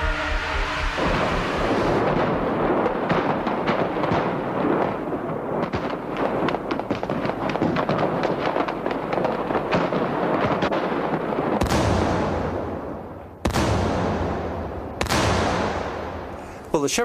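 Rapid gunfire and blasts crackle continuously during an assassination attack with rocket-propelled grenades on an armored car, followed by several sharp, loud explosions with trailing echoes; no talking.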